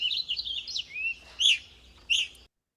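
Evening grosbeaks give a string of high, clear whistled calls, some blurring into chattering tones, with two louder sharp notes near the end before silence.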